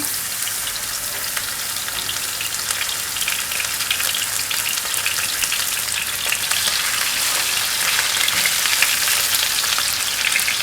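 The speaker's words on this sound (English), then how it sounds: "The olive oil is now nice and hot, and I'm going to fry the chicken." Dense, loud sizzling and crackling of chicken frying in hot olive oil, continuous and close, with no talking.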